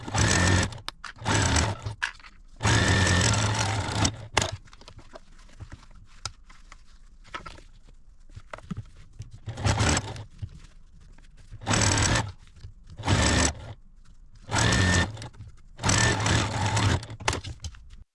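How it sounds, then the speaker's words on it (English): A domestic sewing machine top-stitches a zipper onto a fabric jewelry roll, running in loud rapid bursts of a few seconds each, separated by quiet pauses and handling noises. "fold this up on there and sew it and open it up and then top stitch it"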